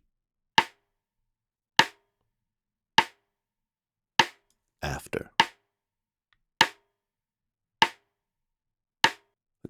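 Snare drum sample struck repeatedly in an even rhythm, crisp and close, each hit decaying quickly; a brief spoken word interrupts the middle of the sequence.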